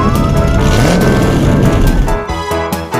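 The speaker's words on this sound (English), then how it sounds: "A U.S. police car." A U.S. police car siren wails in a steady rising and falling tone over a loud engine and traffic rumble, close and prominent, with sharper electronic bursts toward the end.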